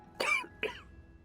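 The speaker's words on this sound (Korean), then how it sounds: "근데 기침하시는 거 보니까 감기 걸리신 것 같은데" A video game character coughs twice in quick succession, two sharp, close throaty bursts about half a second apart with nothing else around them.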